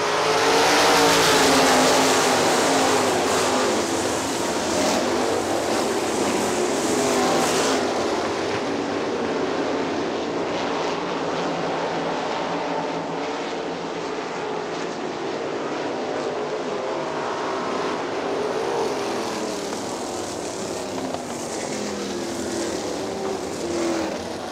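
Sprint cars race on the dirt oval at Hartford Speedway Park, their engines roaring loud and continuous as the pack passes close by, a dense unbroken drone that swells and slowly eases.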